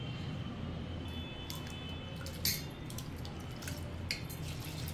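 Rice being rinsed by hand in a bowl of water for chicken biryani, soft sloshing with a few small splashes and drips, close and quiet, without talk.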